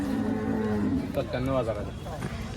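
A cow moos loudly and nearby at a Chalisgaon cattle market, a long low drawn-out call, with people talking in the background.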